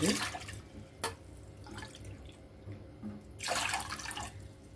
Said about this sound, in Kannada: 4 ವಾಟ್ಗೆ ನೀರು ಹಾಕ್ಕೊಳಿಕತ್ತೀನಿ ನೋಡಿರಿ ನಾನು